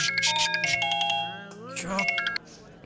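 A mobile phone rings with an incoming call from mother, a bright repeating electronic ringtone melody playing loudly and steadily for a few seconds before cutting off abruptly.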